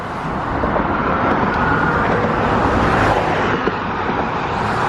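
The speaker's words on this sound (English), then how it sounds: "right now we're just playing with traffic on the side of the bridge" Steady road traffic rumbles by on a bridge crossing a river near Duncannon, Pennsylvania, a continuous loud wash of passing vehicles with no voices.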